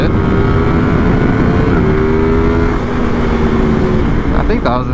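A Yamaha MT-10 motorcycle engine roars loudly and up close during a wheelie, a sustained droning tone holding a high steady pitch with slight shifts, ending in a quick revving change.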